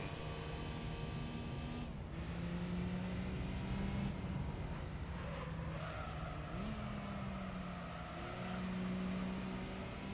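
Engine drone and squealing tyres from a car drifting in Gran Turismo on PlayStation 2, the motor pitch rising and falling through shifts over a continuous screech of sliding rubber.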